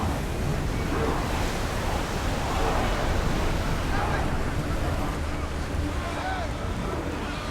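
Wooden warship rowed through open sea waves in Assassin's Creed Odyssey, a steady roar of rushing water and wind with no breaks, loud and continuous throughout.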